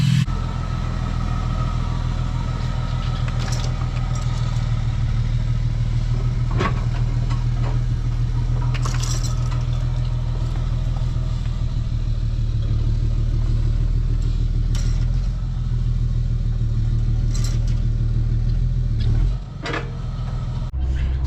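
Truck engine idling and running steadily for a long stretch while towing a dead David Brown tractor by chain, a constant low rumble with occasional clanks, easing off near the end.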